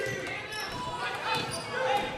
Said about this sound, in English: Got away with a double dribble, I think.